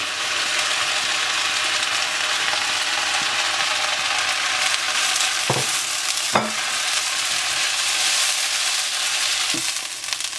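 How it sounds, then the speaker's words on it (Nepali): Peas and carrots being stir-fried with soaked rice in a pan for pilau, a steady dense sizzle with scraping and stirring, two sharp metallic clicks of the spoon against the pot midway. "अब यो एकछिनपछि हामीले हाल्दै छौं केराउ र गाजर"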